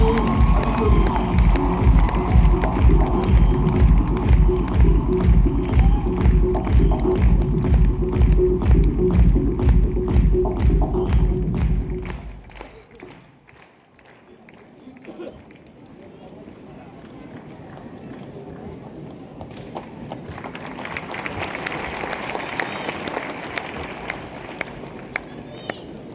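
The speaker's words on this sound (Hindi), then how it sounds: "जोरदार तालियों से स्वागत कीजिए" A large audience applauds loudly to welcome a speaker onto a stage at a product launch event, dense sustained clapping and cheering that fades out midway, followed by quieter scattered crowd noise and some talk.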